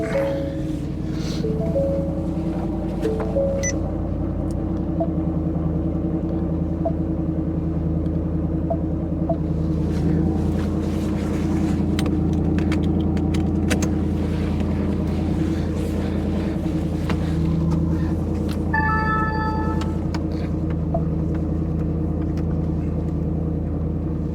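Steady low engine and road rumble from a 2024 Ford F150 4x4 with a 5.0L V8 and carbon fiber driveshaft, cruising on a test drive, continuous and close with faint cabin chimes.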